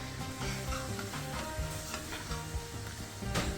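Steady, crackling sizzle of payaththampaniyaram, a Jaffna-style sweet, frying in hot oil, continuous and close, with faint bubbling pops throughout and no talking.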